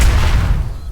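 Rocket turrets firing in Dysmantle, a heavy, booming discharge with a low rumbling tail, loud and close, lasting under a second.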